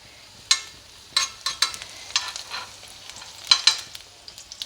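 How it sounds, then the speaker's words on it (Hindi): Paratha cooking in ghee on a pan, a faint low sizzle punctuated by a series of crisp spatula taps and scrapes, irregular and close, without speech. "अब हम इसमें घी डालेंगे"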